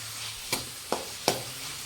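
Onions, tomatoes and capsicum sautéing in a pan for a capsicum gravy, a soft steady sizzle with three brief stirring scrapes spaced evenly, close and fairly quiet with no talk.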